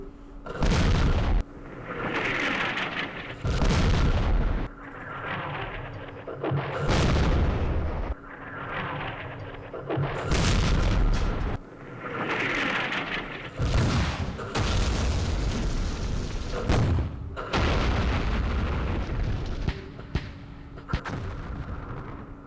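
Artillery fire in the Campaign Series Vietnam game, Dien Bien Phu battle: repeated heavy booming shell blasts and gunfire bursts, loud and spaced every couple of seconds, alone without talk.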